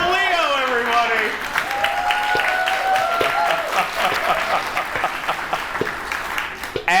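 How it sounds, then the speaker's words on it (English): An audience claps at an event, a dense patter of many hands that starts strong and slowly thins, while people talk and exclaim loudly over it. "Y'all stop clapping."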